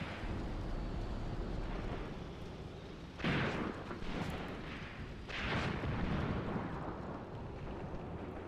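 Battle for Leningrad in a WW2 battle simulation game with a Wehrmacht armoured offensive, heard as distant muffled artillery and gunfire thumping over a constant rumbling, windy background, with a couple of sharper blasts rising briefly above it.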